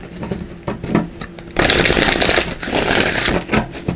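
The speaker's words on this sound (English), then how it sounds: "We'll give these a good shuffle and then we'll jump right in." Oracle cards being shuffled, a brisk riffling patter of card edges that swells loud and dense midway and keeps rustling close up, with no talking.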